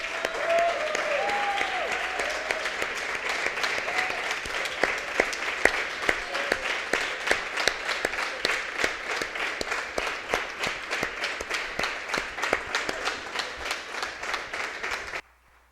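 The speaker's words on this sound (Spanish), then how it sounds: "Dale una ofrenda de palmas" A church congregation applauds at a Sunday resurrection celebration service, a steady, dense round of clapping lasting about fifteen seconds before stopping abruptly, with faint voices early on.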